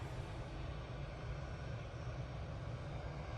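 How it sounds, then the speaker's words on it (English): An EasyJet airliner coming in from Belfast approaches Manchester Airport, a faint, steady low engine rumble and roar held evenly throughout. "next in we have the EasyJet coming in from Belfast"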